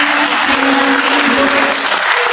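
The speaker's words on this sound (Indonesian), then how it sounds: "kita berikan tepuk tangan yang meriah untuk Ibu Dewi" Loud, steady applause from the audience at a job fair talk show in Magelang, filling the whole moment without pause, with a faint tonal hum running underneath.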